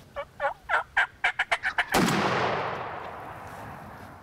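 A wild turkey gobbles along a field edge by the woods during a spring turkey hunt, a rapid run of about ten rattling notes, then one loud gunshot booms and its echo fades slowly.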